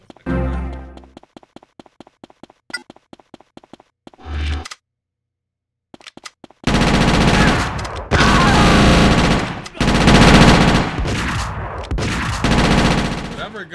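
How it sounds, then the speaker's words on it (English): Rapid gunfire from the video game GTA Chinatown Wars, first as quick clipped bursts of shots, then after a short silence a loud, dense, continuous barrage of firing. "Whatever gun they got is crazy. That gun, whatever that is, shooting like that"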